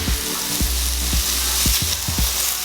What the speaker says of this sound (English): fry the oyster mushrooms separately to make sure they get nice and seared well